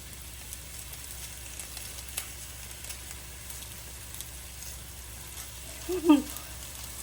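Leftover cooked catfish toasting in fresh butter with sesame seed in a pan, a low steady sizzle with faint crackles and a brief clatter of a utensil near the end.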